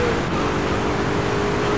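A steady, droning engine roar holds throughout, with a faint rising whine near the start, like a car revving continuously in Grand Theft Auto 3 on PS4.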